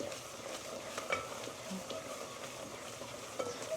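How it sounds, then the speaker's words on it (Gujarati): A spoon stirs semolina roasting in ghee in a pan over low heat. A steady, soft sizzle and gritty scraping run throughout, with a few light clinks against the pan. "તો ચાલો મિક્સ કરીએ જ્યાં સુધી ઘી પાછું છોડે ને ત્યાં સુધી રવો."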